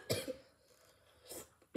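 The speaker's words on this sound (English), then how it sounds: "And this is the way I'm coughing" Two separate coughs, quiet and close, with a short pause between them and a third starting right at the end.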